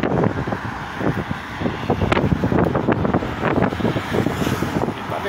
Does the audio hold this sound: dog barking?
no